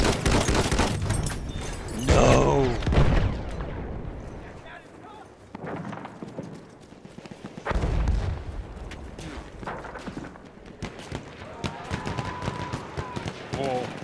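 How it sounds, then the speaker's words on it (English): Machine gun fire in the World War I shooter Battlefield 1 rattles in dense bursts with booming explosions, loud and continuous, under frantic gameplay action. "Пулемет!"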